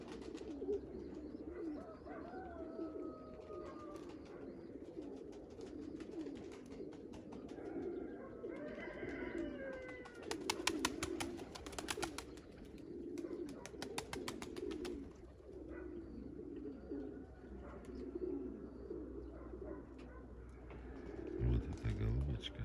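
Pigeons cooing repeatedly on an evening outing among a pair of doves, soft throaty coos layered over steady outdoor ambience, with a person talking nearby at moments.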